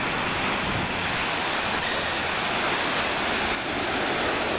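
Restless ocean waves break against the shore at Pebble Beach, a loud, continuous roar of surf with wind mixed in and no let-up throughout.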